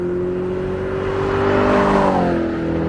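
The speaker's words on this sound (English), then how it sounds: "The Corvette." A Corvette engine revs up and accelerates, its harmonic note climbing in pitch as it draws closer, loud and steady across the whole stretch with no voices.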